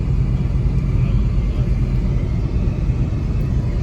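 A car drives along a village road, heard from inside as a loud, steady engine and road rumble that continues without a break.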